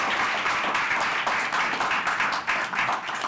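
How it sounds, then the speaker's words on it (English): A room at a county commission meeting breaks into a brief round of applause, many hands clapping together in a steady, close patter that fills the space for a few seconds. "Let's give these guys a round of applause."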